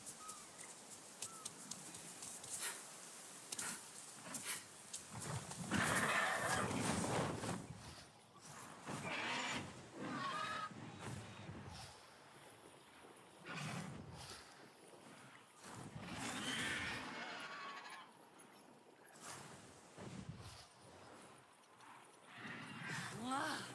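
A dire horse from Avatar Frontiers of Pandora gallops with rhythmic hoof clip-clop and an occasional neigh, set against game ambience. A voice talks over parts of it.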